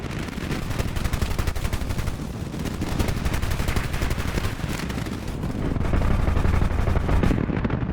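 Aircraft machine gun fire from a Me-163 rocket fighter attacking a bomber, a dense, continuous rattle of rapid shots over a loud roaring background, growing heavier near the end with no pause.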